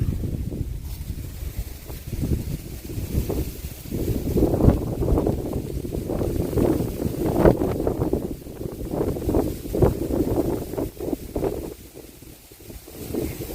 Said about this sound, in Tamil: காற்று பாருங்க, வேற லெவலில் அடிக்குது காற்று.